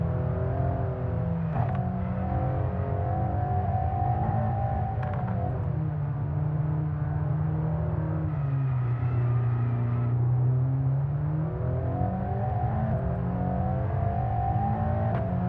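A Formula 1 race car engine in the F1 23 racing game, around the Miami circuit, screams at high revs, dips as it brakes and downshifts into a turn, then climbs again under acceleration, loud and continuous with no voices.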